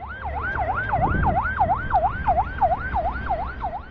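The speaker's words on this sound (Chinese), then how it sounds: "来了，救护车来了。" An ambulance siren wails in a steady, rapid up-and-down sweep, loud and close at a highway crash scene, over low traffic and engine rumble with no talk.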